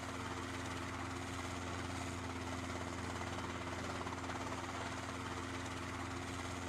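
Plane engine droning in flight in the DayZ video game, a steady, moderately loud engine hum with a constant low throb and no pauses.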